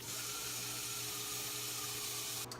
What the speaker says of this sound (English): So I'm gonna wash my hands really quick.